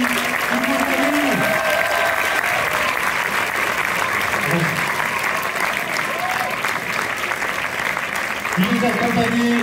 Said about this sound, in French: On peut l'applaudir, c'est toujours stressant quand on est en première, allez-y, on l'applaudit.